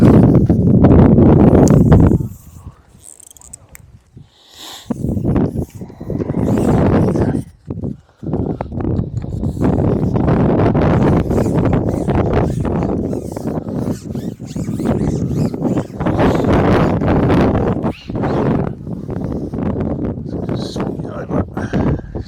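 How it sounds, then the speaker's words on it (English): Strong wind on a lake, loud gusty buffeting roaring close against the microphone in long surges with brief lulls. "Very hard with the wind."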